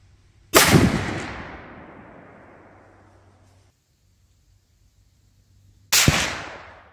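Two loud rifle shots fired at a target during a moose hunt, using Hornady Superformance ammunition; each sharp crack rolls into a long fading echo, with the second coming about five seconds after the first.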